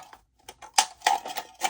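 Scissors snip through thin aluminum sheet while cutting out a flower shape, giving a run of short, crisp, metallic clicks and crunches in an uneven rhythm, close and fairly quiet, with no talking.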